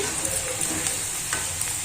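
Hot oil sizzles steadily while tempering is added for a ginger pickle, a close, even crackle with faint stirring over a short stretch.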